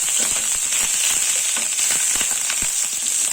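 Mustard seeds, cumin and garlic-ginger paste fry in hot oil with a loud, steady sizzle, punctuated by scattered sharp pops and crackles of seeds spluttering close up.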